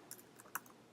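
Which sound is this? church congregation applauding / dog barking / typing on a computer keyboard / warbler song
typing on a computer keyboard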